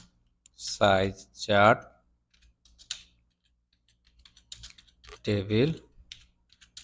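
Soft keystrokes tap out a prompt on a computer keyboard in quick irregular bursts, heard between and beneath a man's spoken remarks.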